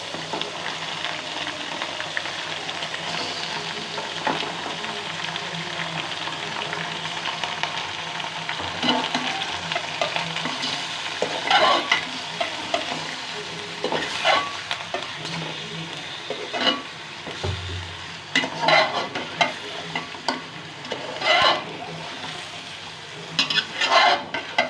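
Chicken pieces frying with browned onions and oil in a pan, a continuous close sizzle with intermittent clinks and scrapes of stirring, no one speaking.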